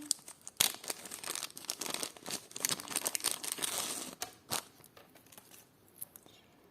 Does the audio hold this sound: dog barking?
no